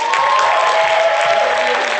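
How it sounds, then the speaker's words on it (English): A crowd at an Africa Day event claps for a university choir, a loud, close, continuous burst of applause that stays level and unbroken for the whole short stretch. "Can we give them a round of applause?"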